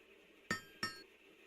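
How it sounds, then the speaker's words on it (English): Two sharp, close metallic hammer strikes about a third of a second apart, each ringing with a bright clink and then fading quickly, recorded by hand. "That's the sound that I was gonna use when they were hammering the"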